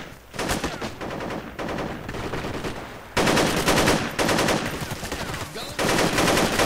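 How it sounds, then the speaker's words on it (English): Sustained automatic gunfire from enemies in an online shooter game, loud dense bursts of machine-gun fire in several long volleys with brief gaps between them. "The moment I want to cross, they start shooting"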